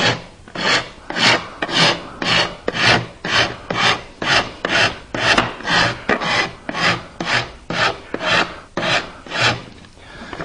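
Loud wood rasp filing down and rounding over small wooden corners of a knife caddy, each push stroke a distinct coarse rasp in an even rhythm of about twenty strokes.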